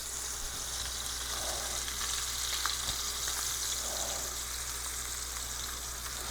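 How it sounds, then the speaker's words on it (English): Pork chop steak searing in a hot pan gives off a steady, moderate sizzle with faint crackles, no voices over it. "Sear the side of it."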